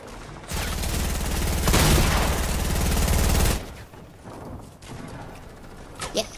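Rapid automatic gunfire in the Fortnite video game rattles out as one loud, sustained burst of about three seconds, then drops to quieter game sounds and a few faint clicks.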